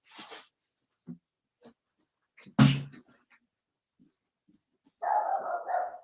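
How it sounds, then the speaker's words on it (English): A dog barks in short separate bursts, one loud and close, followed by a longer whining, whimpering call near the end. "I need to go close the door so Zinni can stop barking"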